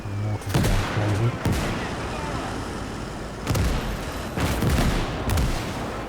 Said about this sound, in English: The mortar's going crazy.